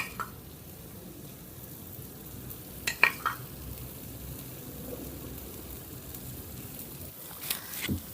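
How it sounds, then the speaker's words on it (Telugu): A rava dosa fries in oil on a pan over a medium flame, giving a continuous soft crackling sizzle with a few clicks and scrapes, no voices. "ఇప్పుడు స్టవ్ని మీడియం ఫ్లేమ్లో పెట్టుకోండి ఇవన్నీ వేసిన తర్వాత ఇప్పుడు ఆయిల్ కూడా వేసుకుందాం"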